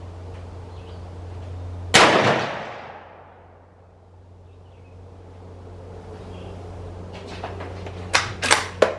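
A Ruger Ranch rifle in 7.62x39 fires one loud outdoor shot that rings out and decays over a couple of seconds, followed near the end by a quick burst of three sharper shots.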